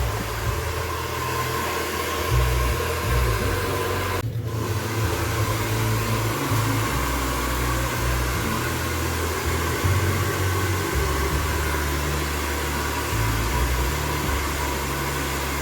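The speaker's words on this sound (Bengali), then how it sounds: "এবার চুলটা ভালো করে ড্রায়ার দিয়ে শুকিয়ে নিচ্ছে" A hair dryer blows a continuous steady whoosh while drying hair at a parlour after a hair botox treatment, close and unbroken with one brief dip, no talking.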